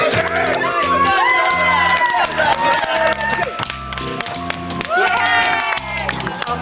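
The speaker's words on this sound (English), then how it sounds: "Give them a nice round of applause, everybody." A holiday camp crowd claps and cheers, with shouts and lively voices mixed in over a rhythmic music beat, loud and close throughout.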